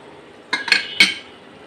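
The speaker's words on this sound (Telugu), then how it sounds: "ఇప్పుడు ఎగ్స్ వేసి ఇప్పుడు మూత పెట్టేస్తున్నాను" A lid is set onto a pan of egg curry, giving three quick metallic clinks and clatters in succession, close and crisp against a quiet background.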